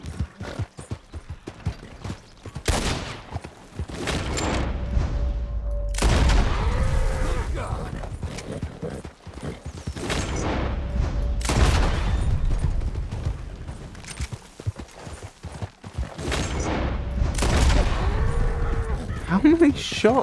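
Gunshots in Red Dead Redemption 2, several loud cracks spread across the scene among horse hoofbeats and ambient sounds, with spoken commentary in between.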